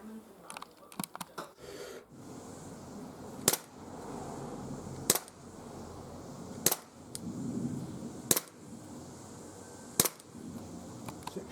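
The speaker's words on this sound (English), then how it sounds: "So we're going to go out and do a bit of shooting now in the garden." A Glock 17 Gen 4 gas blowback BB pistol fires outdoors in a garden, several sharp snapping shots spaced a second or two apart after a quick cluster at the start, over quiet background.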